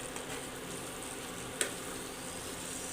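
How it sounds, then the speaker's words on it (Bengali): Masala sautéing in oil in a pan for an egg curry with potato, pointed gourd and soya chunks, a steady soft sizzle and crackle throughout with one brief sharp click midway. "এটা আরও একটু কষাবো"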